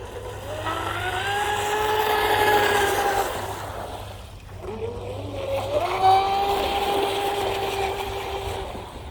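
A Blackjack 24 RC boat with a stock 2000kv motor on a 4S battery makes a full high-speed pass on rippled water. Its whining motor rises, fades, then rises again in two sweeping passes.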